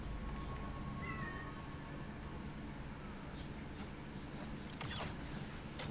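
A cat gives a faint, short meow early on beneath steady background noise and game audio, followed by a few soft clicks and rustles.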